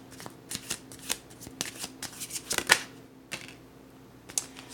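A deck of tarot cards shuffled by hand in a quiet room, a close series of quick riffling flutters and soft snaps in irregular bursts.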